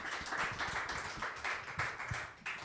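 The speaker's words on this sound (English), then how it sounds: "give him a round of applause" Audience applause for a panel moderator in a small room at a CTF security summit, dense steady clapping from many hands throughout, fairly close and even in level.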